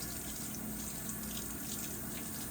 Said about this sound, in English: First thing you'll do by you'll turn on the hot tap water.